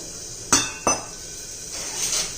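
A spoon clinks twice against a bowl, sharp metallic taps close by, followed by quieter scraping as a spice paste of coriander powder, turmeric and a little water is stirred.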